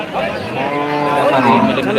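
Long-horned cow at a large Bangladeshi cattle market lows loudly and up close in one sustained, drawn-out moo, with market voices in the background.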